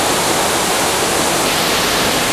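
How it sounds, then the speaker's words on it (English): Waterfall roaring in the Sarawak jungle, a dense, loud, unbroken wash of falling water with heavy spray and nothing else audible. "the waterfalls are ridiculous here"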